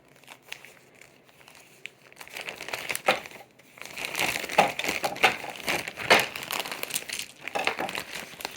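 Plastic bag from a thrift haul being cut open and crumpled by hand, irregular close crinkling and rustling bursts that grow louder and busier toward the end.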